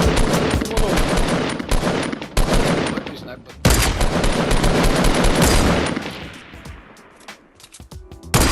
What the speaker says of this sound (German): Oh, jetzt schießt noch mit dem Raketwerfer.